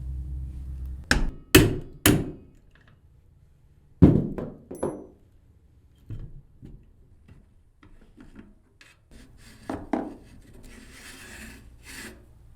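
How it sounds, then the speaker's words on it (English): A hammer drives a knurled pin out of a Minn Kota trolling motor yoke with sharp metallic strikes, several in quick succession at first and then sparser, quieter taps with some scraping in between. "To remove this yoke, you'll need to drive this pin out."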